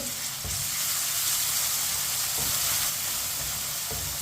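Steady sizzling of crushed ginger and garlic frying in a pan, with occasional scraping clinks of a spoon stirring, no talking.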